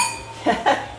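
Glasses clink twice in a toast during an outdoor wine reception on a hot day, two bright, close, brief chimes about a fifth of a second apart over a faint background hum.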